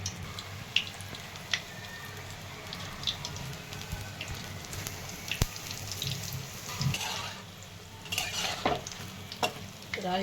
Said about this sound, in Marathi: पलटी करून छान तळून घ्यायची आहे ती भाजी